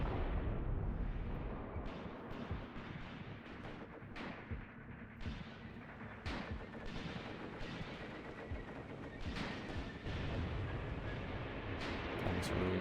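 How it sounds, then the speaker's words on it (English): Artillery bombardment in the strategy video game Mius Front: a steady barrage of booming shell impacts and gunfire thuds, some sharp and close, others rumbling in the distance, continuous over dense battle noise with no talk. "This means that they will try to bombard wherever I observed, or whatever I told them to."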